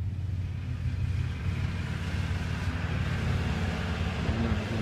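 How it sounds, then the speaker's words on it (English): An aircraft passes over a wildfire during the Santa Rosa fire evacuation, a steady, distant low engine rumble droning without pause throughout. "But here comes another plane."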